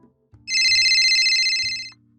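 A telephone rings at a bicycle shop in a dubbed manga scene: one loud, bright electronic trill lasting well over a second, close and clear, with no talking.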